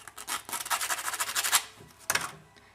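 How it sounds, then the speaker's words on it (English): Sandpaper rubs back and forth over rough sheet metal, a close rhythmic scratching of quick strokes that pauses briefly, then one last stroke. "take your sandpaper"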